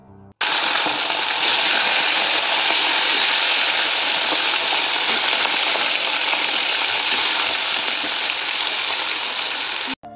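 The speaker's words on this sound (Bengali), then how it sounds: "মাছগুলো আমি ভাজতে চাপিয়ে দিয়েছি" Fish pieces coated in salt and turmeric frying in hot oil, a loud, dense, unbroken sizzle that starts abruptly and cuts off near the end, no speech.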